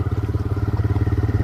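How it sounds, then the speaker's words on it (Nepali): A rented motorbike being ridden, its engine giving a steady, loud, close pulsing drone throughout the short stretch. "भाडाको बाइक हो यो, फेरि भाडाको बाइक"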